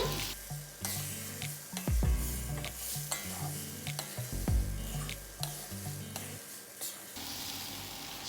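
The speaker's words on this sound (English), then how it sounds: "Scraping down because it is starting to thicken up." Spatula scraping the bottom of a wok as Pad Talay Pong Karee, a curried seafood stir-fry, thickens, with steady sizzling and repeated rough strokes throughout and a soft low tonal background.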